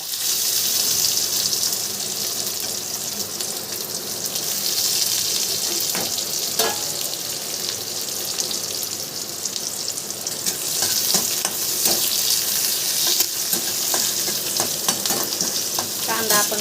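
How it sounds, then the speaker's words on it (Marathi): Onion fries with browned garlic in a pan, a dense continuous sizzle with crackling spatters and occasional stirring clinks, close and loud with no talk. "कांदा आपण लालसर भाजून घेऊ चांगला."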